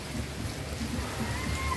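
Rain with thunder at the beach, a dense constant patter of rain under a low rumbling roar, steady and fairly loud throughout.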